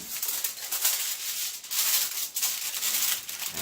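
Fresh aluminum foil crinkles and rustles as it is handled over a homemade paint palette, a steady close crackling with brief surges and dips throughout.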